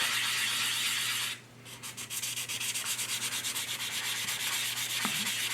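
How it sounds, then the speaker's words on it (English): Wet sanding stick rubbed against a 1/350 Hobby Boss Oscar SSGN submarine model, a steady close abrasive rasp broken by a short pause, then resuming as quick repeated circular strokes with a faint tap near the end. "I'm going to dip my sanding stick into the water, and we're just going to sand it down"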